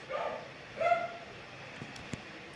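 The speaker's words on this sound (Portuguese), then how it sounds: "o cachorro latindo tá difícil." A dog barks twice somewhere nearby, two short, faint yelps spaced about half a second apart, then a quiet room with a couple of soft knocks.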